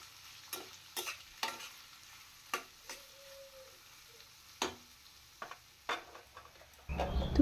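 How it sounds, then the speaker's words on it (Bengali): Chopped onions fry quietly in oil in a wok, with a soft sizzle broken by repeated scraping stirs at irregular intervals, ending in a louder clatter. "পেঁয়াজটা আগে ভালো করে ভেজে নেব।"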